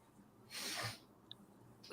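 A single sneeze bursts out close by in a quiet room, a short loud noisy blast lasting about half a second, followed by a faint click and some low background murmur.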